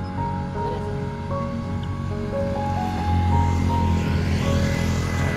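Continuous gentle rush of cold monsoon spring water running at Ganeshpuri, steady and close, with a low hum and faint tonal background sounds.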